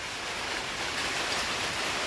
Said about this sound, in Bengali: সকাল সকাল বৃষ্টি হচ্ছে